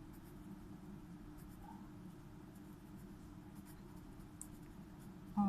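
Pen or pencil writing by hand on paper during a physics lesson. The scratching is faint and continuous, close by, with no speech.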